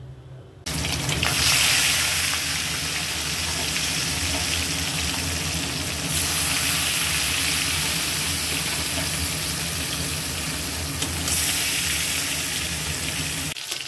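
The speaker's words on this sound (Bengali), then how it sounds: "লাল লাল করে মাছটা ভেজে নিলাম," Fish rubbed with turmeric sizzles steadily as it fries in hot mustard oil in a wok, a loud continuous crackling hiss with brief swells, no talk over it.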